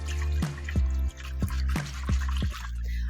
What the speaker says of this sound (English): So now combine them, stir them really good until your sugar and salt are dissolved.